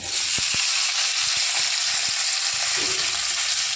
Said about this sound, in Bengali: ফোড়নটা ভাজা হয়ে গেলেই এর মধ্যে দিয়ে দিচ্ছি কেটে রাখা পেঁয়াজটা